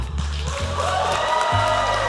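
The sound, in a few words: convention audience clapping and whooping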